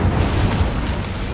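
An Incendio fire spell cast in Hogwarts Legacy, a brief loud whooshing burst with a low booming body, heard alone for just over a second.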